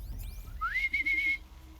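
A single clear rising whistle in Horizon Zero Dawn slides upward and then holds a steady pitch for about a second, moderately loud over a quiet low rumble.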